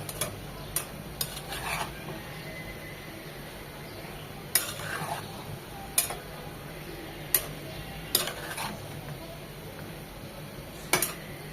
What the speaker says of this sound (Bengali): 2 থেকে 3 মিনিট মশলার সাথে সিম আলু টমেটো কষিয়ে নেব